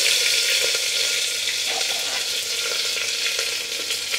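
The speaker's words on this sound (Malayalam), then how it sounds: "കടുക് പൊട്ടിക്കിട്ടുണ്ടെങ്കിൽ നമുക്ക് കറിവേപ്പില ഇട്ട് കൊടുക്കാം." Curry leaves dropped into hot oil with popping mustard seeds, tempering for broken wheat sambar rice, give a steady, loud sizzle with crackling pops throughout, close up and without any voices.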